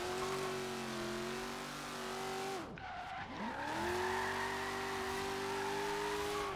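A Ford Fox Body drift build in Forza Horizon 3 accelerates hard, its engine note climbing steadily, dipping sharply at a gear change and then rising again, with tire noise underneath.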